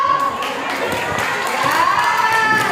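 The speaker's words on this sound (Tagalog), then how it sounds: "Maraming palakpak!" Applause from a church seminar audience, a steady, dense wash of many hands with crowd noise and some voices, held at an even level throughout.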